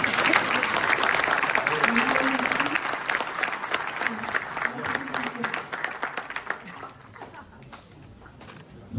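Audience applause for three experts at an event on AI and short-term holiday rentals: steady, dense clapping across the room that fades gradually toward the end, with some voices mixed in.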